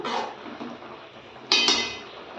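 A metal lid clanks off a pan of cooking cassava pieces, followed by the scrape and clatter of stirring against the pan, with a sharp clink of metal at the end; no talking.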